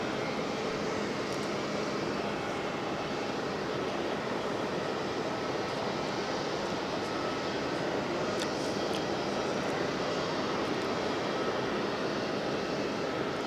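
Jet airliner engines at Geneva Airport, an EasyJet flight, produce a steady, broadband roar that holds at an even level throughout, distant and unbroken, with no voices over it.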